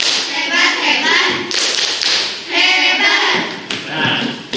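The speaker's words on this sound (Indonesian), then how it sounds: "Kasih tepuk tangan." A classroom of children claps in an uneven rhythm of sharp hand slaps, coming in several bursts, with a teacher's voice and chanting mixed in throughout.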